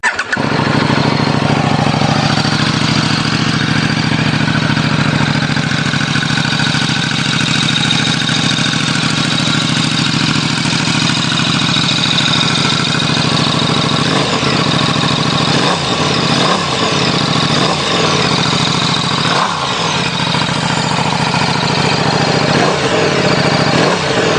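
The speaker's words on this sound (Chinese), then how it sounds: "谢谢大家听一下这一代发动机声浪" A sport motorcycle engine idles loudly and steadily, then gets a series of sharp throttle revs toward the end.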